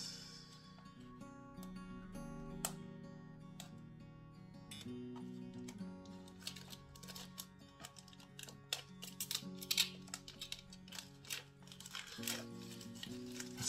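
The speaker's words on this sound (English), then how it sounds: "So let's unwrap this." Plastic wrapping being peeled and crinkled off DJI Mini 2 drone packaging, close and quiet, with scattered sharp crackles and rustles growing busier over the second half, over a faint background hum.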